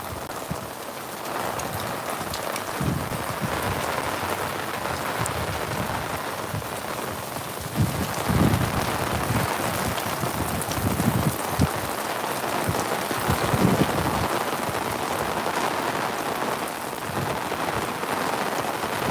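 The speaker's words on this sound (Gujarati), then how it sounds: "અતિ ભારે વરસાદ પડી રહ્યો છે" A downpour drums steadily on surfaces over farm fields, with a thick, constant wash of rain and heavier bursts of drops midway, loud and nearby.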